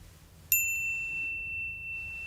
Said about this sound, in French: Activez la petite cloche